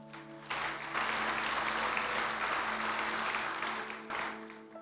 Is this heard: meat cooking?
no